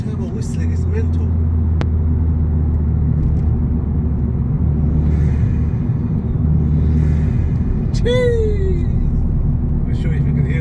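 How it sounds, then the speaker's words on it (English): Vauxhall Corsa VXR Nurburgring Edition with a cat-back exhaust, a steady engine drone under voices, with a brief rising turbo whistle near the end. "That turbo whistling is mental."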